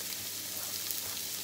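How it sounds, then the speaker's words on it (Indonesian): Onions sizzling and frying in hot cooking oil in a pan, a soft continuous crackling hiss, quiet and steady with no talking. "Tumis bawangnya dulu ya"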